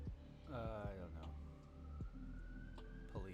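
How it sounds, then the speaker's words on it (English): Police and ambulance sirens wail through New York City streets, a rising and falling siren sweeping over steady traffic rumble, with people talking nearby. "Police. Good stuff. Ambulances."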